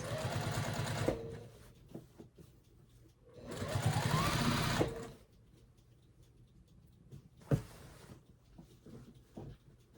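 Sewing machine stitching a summer shirt, in short separate bursts of rapid whirring, one around a second long and a longer one in the middle, with quiet pauses and small clicks and handling noises between.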